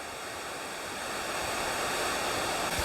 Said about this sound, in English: you can actually go behind the waterfall